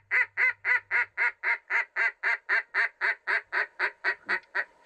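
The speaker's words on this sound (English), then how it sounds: "And ducks are flying. Oh, there's a big mob." A big flock of ducks flies past at sunrise during a hunt, quacking in a fast, steady series of about eighteen loud, evenly spaced calls close by.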